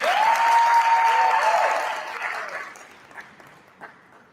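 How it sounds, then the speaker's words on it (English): Loud audience applause at a business seminar in Cosmo City swells at once, holds steady, then thins out to a few scattered claps near the end. "Let's give a round of applause to everybody for that."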